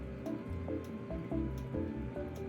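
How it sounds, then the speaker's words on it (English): Hot water drains off boiled noodles in a dorm kitchen, a close, wet splashing and dripping with soft squishy gurgles and irregular drops throughout. "I'm gonna go ahead and take the first batch of noodles and drain this water"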